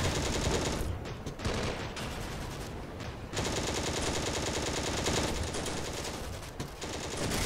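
A Panzer II tank's machine gun fires in the combat video game Steel Fury, loud sustained bursts of rapid automatic fire broken by a few short gaps.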